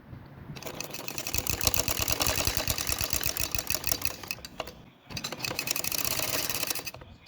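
A sewing machine runs stitching piping onto a fabric neckline, giving a fast, even mechanical whirr that stops briefly, then starts again for a second burst. No voices are heard.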